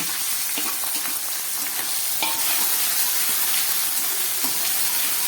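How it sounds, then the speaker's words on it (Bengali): Apple snails frying in hot oil in a pan for a spicy snail dish, a close, steady sizzle with scattered crackles and occasional stirring scrapes, with no voices. "এই তেলের মধ্যে আমি এই গুগলিটাকে একটু ভেজে নেব"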